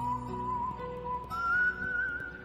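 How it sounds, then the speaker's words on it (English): Whistling in the video game Knytt Stories: a clear sustained whistled melody, holding one steady pitch, then stepping up to a slightly higher note, heard alone over a soft game background. "Nice whistling."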